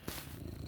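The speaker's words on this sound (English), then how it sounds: "I've got my happy cat purring beside me" A contented house cat purrs beside the listener, a low, steady rumbling throb, close and faint, with no talk.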